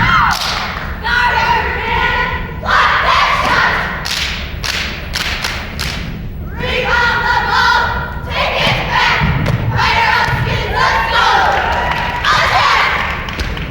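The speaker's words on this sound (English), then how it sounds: "Come on, crowd. Yell loud." A crowd at a 1999 competitive cheer finals yells and cheers in loud repeated bursts, mixed with rhythmic thumps and stomps from the routine.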